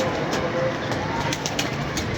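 Pigeons coo in soft, repeated low calls, close by, against a steady broadband background hiss.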